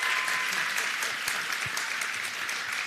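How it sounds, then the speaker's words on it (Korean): An audience at a book concert for former presidential secretary Yang Jeong-cheol breaks into a sustained round of applause, thick, even clapping from a large crowd lasting throughout with no voices over it. "박수를 한번 쳐주십시오"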